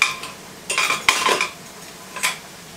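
Half a cup of honey mustard is scraped and spooned into a small dish while making a copycat Chick-fil-A sauce. Clinks of a utensil against a measuring cup and dish come close, in a few separate taps.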